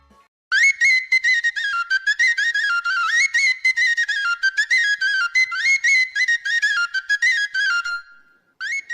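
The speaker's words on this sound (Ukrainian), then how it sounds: "Це сопілка так звучить." A Ukrainian sopilka folk flute plays a lively, high, breathy melody of quick, ornamented notes, close and clear, with short breaths between phrases.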